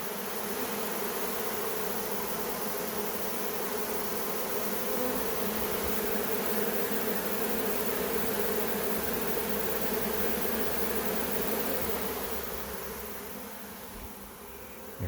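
A honey bee swarm fans at its Nasanov glands, a dense, continuous buzzing hum from many bees that stays loud and steady, easing slightly toward the end, with no voices.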